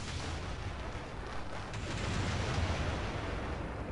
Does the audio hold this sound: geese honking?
no